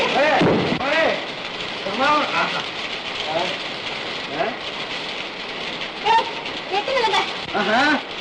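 Steady rain falls in a dense, hissing wash throughout, with people talking over it in the foreground.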